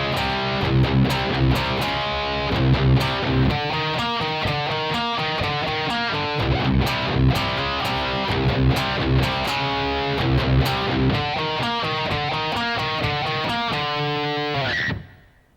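A distorted electric guitar plays a driving, rhythmic four-bar metal phrase twice through, with fast palm-muted chugs and steady loud accents before ending sharply.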